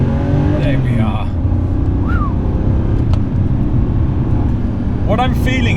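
A modified Porsche 964 Carrera 2 drives hard and accelerates for an overtake, its engine a loud, steady drone under continuous cabin road noise, with people talking over it.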